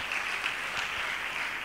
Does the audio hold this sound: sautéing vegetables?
no